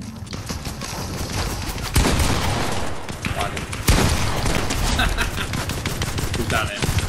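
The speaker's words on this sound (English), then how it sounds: "Oh, we're getting shot from behind us." Gunfire from behind in a Fortnite Zero Build match, rapid loud shots with two sharp heavy blasts punctuating a steady rattle of game noise.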